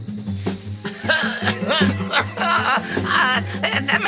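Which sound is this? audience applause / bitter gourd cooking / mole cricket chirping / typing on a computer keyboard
mole cricket chirping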